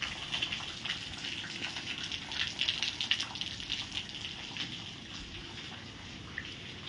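Rainwater gushing from a pipe onto a road after a storm, a steady noisy rush of flowing water heard from nearby, fairly even throughout with a slight swell in the middle.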